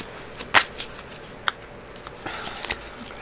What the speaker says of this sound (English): I'm going to give these a shuffle